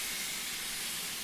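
Steam escaping from a steam heating pipe at a spring steam gala sounds as a steady broadband hiss, continuous and fairly quiet throughout, with no voices.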